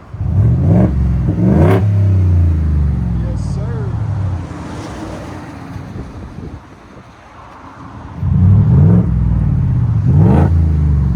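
A 2021-2026 Ford F-150 with a 5.0L V8 and an aftermarket muffler revs in loud bursts, quieting to a lower idle between them and then revving hard again. A brief word is spoken.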